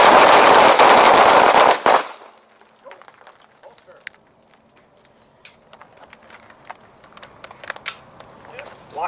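Pistol fire on a shooting range rattles out as a fast, loud string of shots for about two seconds, followed by quiet with scattered faint clicks and handling noises.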